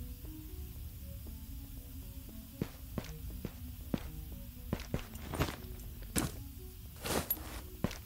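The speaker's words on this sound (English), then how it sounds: "I thought I heard footsteps" Footsteps in the video game Ghosts of Tabor tap and scuff irregularly, several sharp steps in quick succession, fairly faint over a quiet tonal background hum, with no one talking.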